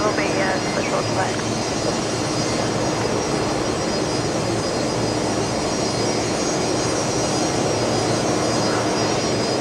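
Fokker 70 jet taxiing onto its bay at Brisbane Airport, a loud constant jet engine roar with a high steady whine, unbroken for the whole stretch, with a voice faintly in the background.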